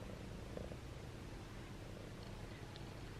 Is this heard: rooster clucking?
no